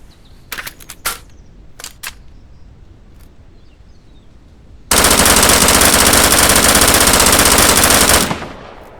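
A few sharp, isolated clicks and pops, then a sustained loud burst of rapid automatic P90 fire in the video game Deadside, lasting a few seconds before cutting off abruptly.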